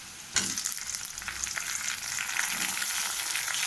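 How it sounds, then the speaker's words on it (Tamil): Large tomatoes and onions fry in hot oil for a mutton gravy, giving a steady, dense sizzle that swells after a brief stir near the start and stays loud and close throughout. "நல்லா தக்காளியும் வதங்கட்டும்."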